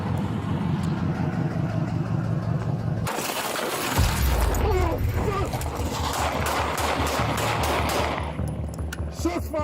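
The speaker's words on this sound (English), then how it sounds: "Shots fired!" Gunfire erupts during a police traffic stop when a driver pulls a .40 pistol: a sudden loud broadband burst of shots cuts through steady road and engine noise, followed by chaotic rumbling and voices.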